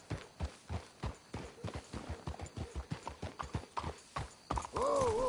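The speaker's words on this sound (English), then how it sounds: "Let's hitch the horses up ahead." Horses trotting with a steady clip-clop of hooves in the video game Red Dead Redemption 2, close and rhythmic, ending in a loud whinny.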